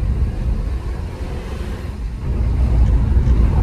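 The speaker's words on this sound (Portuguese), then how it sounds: "Nossa, mas é um motor muito gostoso" Inside a 2024 Jeep Renegade Longitude with the T270 engine rolling over cobblestones, a steady low engine and road rumble fills the cabin, growing slightly louder toward the end, with no talking.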